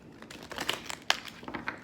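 Soft, irregular papery riffling and flicks of tarot cards being shuffled close by, light and uneven for a couple of seconds.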